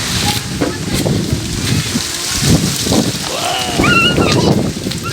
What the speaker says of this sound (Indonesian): Anginnya keras sekali pemirsa.